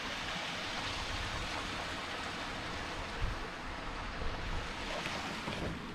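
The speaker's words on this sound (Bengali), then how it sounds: "এইখান থেকে জলটা উপচে পড়ছে।" Steady broadband rush of water spilling over the gates of a small three-gate dam in a quiet rural setting, a continuous roar mixed with wind buffeting the microphone, no voices.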